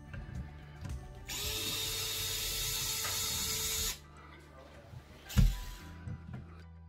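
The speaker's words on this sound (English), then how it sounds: "This time, I'm gonna use my little drill." A small power drill runs for a steady burst of about three seconds while removing an electrical outlet, followed by quieter handling, a thump and a second short whir.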